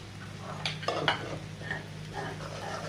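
Egg with whole cumin sizzling gently in a pan while being stirred, with a few close scraping clicks of the utensil against the pan over a low steady fry.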